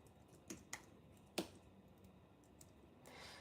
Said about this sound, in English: Now that I'm typing it out